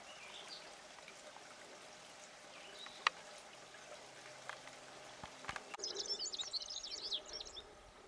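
Birds chirp and twitter in a Drakensberg valley, a faint bright burst of song rising near the end over the soft background rush of a stream.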